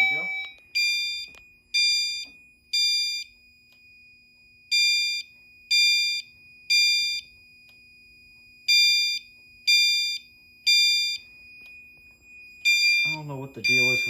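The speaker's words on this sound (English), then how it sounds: "I will now go ahead and activate the smoke detector by just spraying some smoke." Smoke detector sounding during a fire alarm system test, sharp high electronic beeps in repeating groups of three with short pauses between, loud and near, followed by a brief burst of voice or noise at the end.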